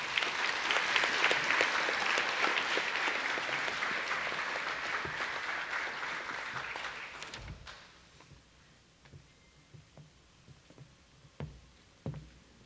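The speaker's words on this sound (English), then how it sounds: "Let's just have one more round of applause." A graduation crowd gives a sustained, dense round of applause for Native American seniors at an Indian Education ceremony; the clapping fades out after about seven seconds, leaving a quiet room with a few scattered knocks and thumps.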